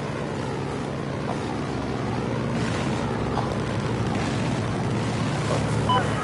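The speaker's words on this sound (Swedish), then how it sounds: "Ja, det låter som en båt." Boat motor in a video game, a steady low rumbling drone with wind-like wash and water noise, continuous and moderately loud throughout.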